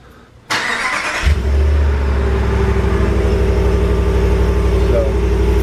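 A stock truck engine with no aftermarket exhaust cranks and fires up, then settles into a loud, steady, close-up idle rumble that continues to the end.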